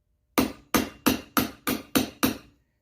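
Seven evenly spaced, sharp metallic hammer blows drive a socket against a new wheel bearing on a 350 Warrior build, loud and close with brief ringing decay after each strike.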